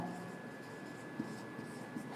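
Pen on paper while working a number-system maths problem: faint, quiet scratching with a couple of soft taps over low room hum, no one talking.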